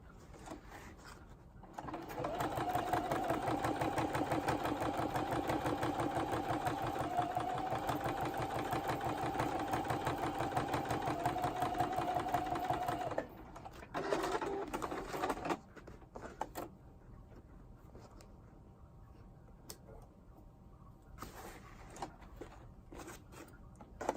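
A sewing machine runs steadily for about ten seconds, quilting through a painted acrylic pineapple artwork, with a close, even, rapid mechanical hum. It then stops and is followed by a few brief bursts and quieter handling.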